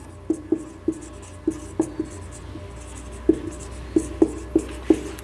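Chalk tapping and scraping out notes on a classroom board during a chemistry lesson, a run of about a dozen crisp, evenly spaced knocks heard alone, fairly close and clear.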